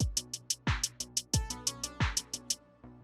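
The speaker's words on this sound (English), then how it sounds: "super simple hi-hat pattern throughout the entire loop" Programmed beat loop with a simple steady hi-hat pattern ticking in even eighth notes over booming low kick drums, clear and up front with no voices.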